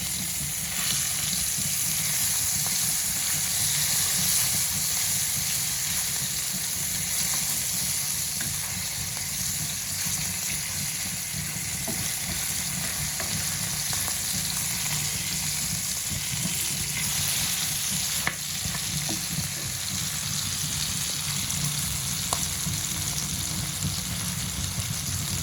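Fresh vegetable bhaji frying in a hot pan, a steady broad sizzle with crackling spits that runs continuously at close range, no voices over it.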